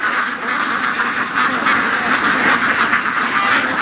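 A flock of pet ducks at a lake keep up a loud, steady chorus of overlapping quacks, close by and continuous, as if startled by falling leaves.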